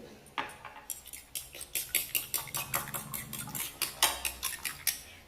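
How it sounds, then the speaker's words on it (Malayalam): Eggs with a pinch of salt whisked by hand in a bowl, a fast run of regular metallic clinks as the utensil strikes the sides, close and crisp with no voices. "ഇത് അല്പം ഉപ്പ് ചേർത്ത് ഒന്ന് അടിച്ചു വെക്കാം"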